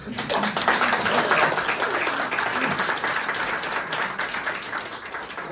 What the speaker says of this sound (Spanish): Pues un aplauso para Inés.